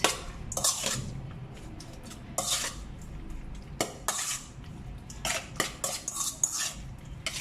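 Metal utensils clink and scrape in a bowl while bulgogi beef is mixed with its marinade of mirin and salt, close, irregular taps and stirring sounds with no talking.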